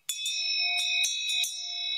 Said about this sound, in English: this bell rings. This is at 432 hertz per second. This was made in India. It's a sacred bell.